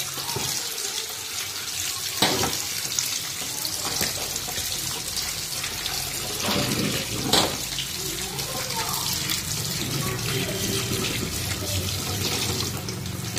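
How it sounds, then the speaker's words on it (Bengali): Leafy greens are rinsed under a steady running kitchen tap, water splashing continuously and fairly loud throughout, with a few brief louder splashes and clatters as the greens are handled. "শাকটা এখন ধুয়ে নিচ্ছি জল দিয়ে ভালো করে।"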